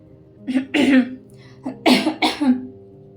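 Two short bursts of light coughing, each made of a couple of quick hacks, close and clear with quiet pauses between.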